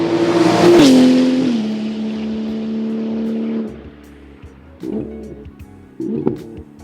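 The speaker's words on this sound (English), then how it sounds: "drives some hot laps in the special race car celebrating 25 years of Manthey Racing." A Porsche 911 GT2 RS Clubsport 25 race car, built to mark 25 years of Manthey Racing, roars on track hot laps, a loud engine howl sweeping past then dropping away, with shorter bursts of revving after.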